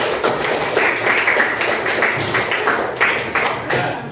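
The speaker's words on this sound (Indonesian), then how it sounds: "beri tepuk tangan untuk kelompok 6" Students in a classroom clap for a presenting group, a dense patter of hands at close range that pulses unevenly and continues steadily throughout.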